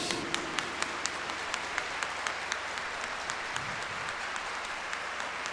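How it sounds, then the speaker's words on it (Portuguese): A church congregation applauds during a Sunday Mass homily, a steady dense clapping that carries on evenly for several seconds with no talk over it. "Dê uma salva de palmas para Jesus"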